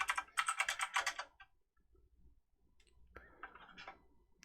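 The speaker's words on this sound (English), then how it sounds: "I can hear my obnoxiously loud keyboard." A loud mechanical computer keyboard clatters in a quick burst of close keystrokes, pauses in near silence, then rattles off a second shorter run of typing.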